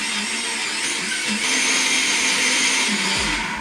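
Blender whizzing pineapple, banana and pineapple squash into a smoothie, a loud continuous motor whine that holds steady and rises slightly in pitch partway through, heard close and alone.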